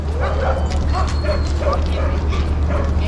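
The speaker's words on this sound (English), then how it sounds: "There are a lot of dogs." A crowd of sled dogs at Tierra Mayor Natural Reserve near Ushuaia, Argentina yips and barks continuously in overlapping bursts, fairly close, over a constant low rumble.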